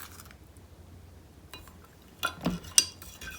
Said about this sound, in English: And you keep on stirring until it gets clear.